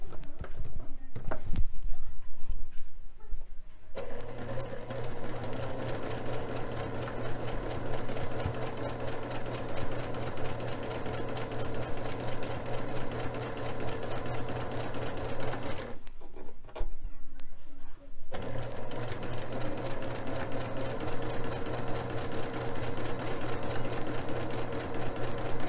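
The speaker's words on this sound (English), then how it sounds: "We're going to sew it on this other side, and then the first portion of our block is complete." A sewing machine stitching a fabric strip onto a quilt block, with a steady, close mechanical whir that runs almost continuously and stops briefly twice.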